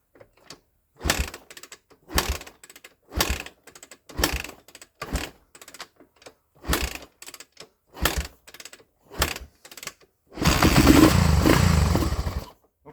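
A vintage barn-find Honda 350X three-wheeler engine, primed with a squirt of fuel, cranks in a series of short mechanical bursts separated by pauses, then catches and runs loudly for a couple of seconds before cutting out.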